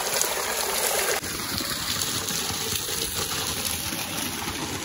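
Spring water gushes steadily at the Jaleswar Mahadev temple in Korba, a loud continuous rushing flow with no voices.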